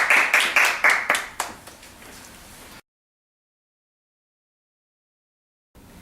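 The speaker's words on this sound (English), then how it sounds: "Let's all give Dr. Russell a round of applause for her wonderful presentation on our program." A handful of sharp, rhythmic claps open for a presentation on evolution, fading into a short faint patter before cutting to silence, then a brief return of low sound at the end.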